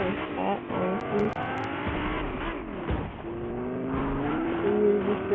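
A car drives around in Fortnite, its engine droning steadily with shifting pitch and occasional tire squeals as it speeds along, loud and close, with game ambience behind.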